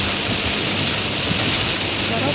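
Heavy rain drums and hisses continuously on a moving car, a dense, loud wash of noise heard from inside the vehicle.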